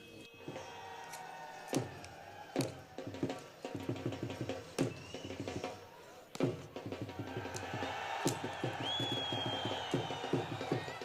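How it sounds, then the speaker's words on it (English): Crowd cheering at the India-Pakistan zero-line border gate ceremony, bursts of shouting and clapping rising and falling with sharp stamping or gate thuds at intervals, with a whistle blast near the end. "On both sides of the zero-line gate, the citizens cheer their gladiators with every move."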